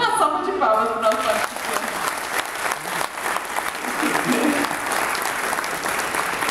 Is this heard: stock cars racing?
no